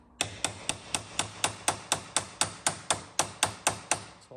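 A hammer taps an Allen key into a tight socket on monster truck steering, about seventeen sharp metallic strikes in an even, quick rhythm, close and clear with no talking.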